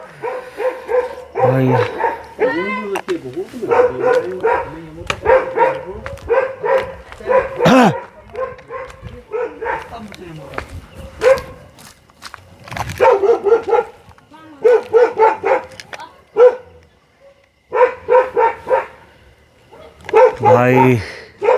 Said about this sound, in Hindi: आज कुत्ता भौंक रहा था ना